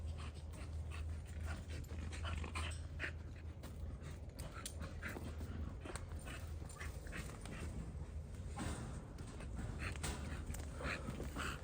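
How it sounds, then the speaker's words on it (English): Dogs at a home where a chicken was just killed, agitated and worked up, with steady panting, whimpers and short yips running continuously and fairly close, no talk over them. "the dogs are going crazy"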